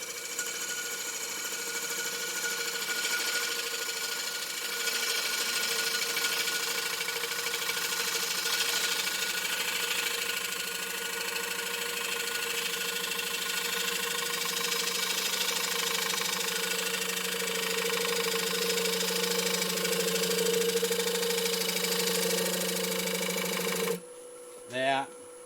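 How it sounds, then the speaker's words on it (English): Wood lathe spinning a bowl blank while a bowl gouge rides the bevel and cuts out toward the rim, a steady close motor hum with a continuous tonal whine and faint cutting noise, stopping abruptly near the end. "rub the back of the bevel, bring my handle towards me, and just feed the bowl gouge out to the rim"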